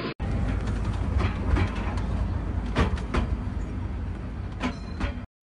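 A train rumbles along the rails, a heavy steady roar with rhythmic clattering knocks over the track, then it stops suddenly.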